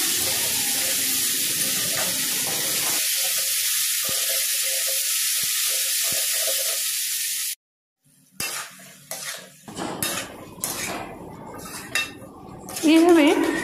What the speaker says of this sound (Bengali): এইভাবে বেশ ভালো করে নেড়ে চেড়ে নিতে হবে।